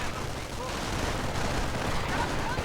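Scattered rifle shots and machine-gun bursts from a WWII strategy video game crackle at moderate volume, overlapping in a dense, noisy battle mix without clear pauses.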